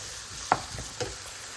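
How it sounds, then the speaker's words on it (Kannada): Tomatoes going into a hot pan to cook, with a soft steady sizzle and a couple of brief stirring clatters, fairly quiet and close, with no voices. "ಮತ್ತು ಟೊಮ್ಯಾಟೊನೂ ಹಾಕ್ಕೊಂಡೆ. ಒಂಚೂರು ಅದನ್ನು ಬೇಯಿಸೋಣ"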